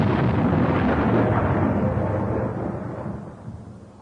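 A loud thunder crash from a dry thunderstorm in a German audio drama booms with a broad roar, then rumbles and slowly fades away over several seconds.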